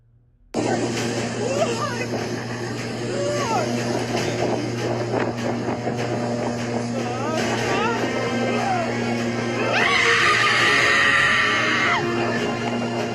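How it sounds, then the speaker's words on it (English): A woman screams loudly in a sustained, high outburst near the end of a short online clip, rising over a busy, noisy background that carries voices throughout. "Why she screaming like that?"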